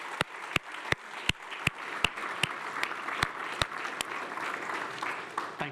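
A crowd applauds steadily, a dense wash of many hands clapping at moderate volume with a few sharp, louder claps standing out.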